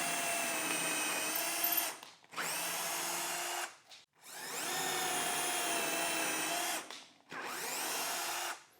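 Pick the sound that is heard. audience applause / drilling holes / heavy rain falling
drilling holes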